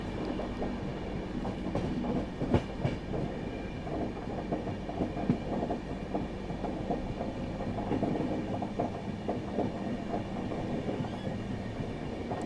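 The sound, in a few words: Yoganagari Rishikesh Ernakulam special train running parallel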